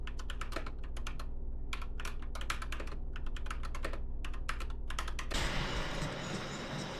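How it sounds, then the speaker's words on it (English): Dense, rapid clicking of a BOYI IK87 75% mechanical keyboard as keys are pressed during gaming, close and steady, with a rushing burst of game sound near the end. "this keyboard actually performs while I am gaming"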